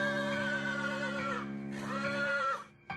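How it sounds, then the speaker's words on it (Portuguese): A horse gives a loud whinny in two long, quavering pitched bursts with a brief dip between them, close and clear, ending abruptly. "Mas logo ouvi um alto relincho."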